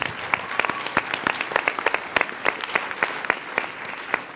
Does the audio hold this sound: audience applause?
yes